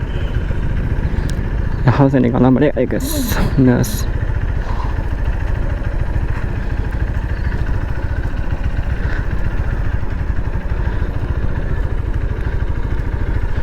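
Xpulse 200T 4V motorcycle engine running in first gear while riding off-road over rough ground, a steady mid-pitched drone throughout, with someone speaking briefly near the start.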